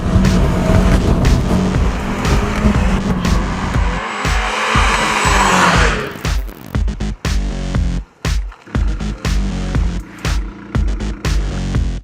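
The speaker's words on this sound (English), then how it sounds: "when you put your foot flat on the gas, you think, nice little car" A Fiat 500 695 Tributo Ferrari edition accelerates at full throttle, its engine loud and close, rising in a sustained howl for about six seconds before breaking into a choppy run of gear changes and throttle lifts.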